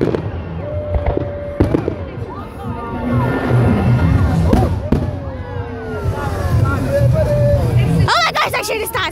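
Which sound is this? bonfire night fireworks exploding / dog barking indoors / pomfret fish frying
bonfire night fireworks exploding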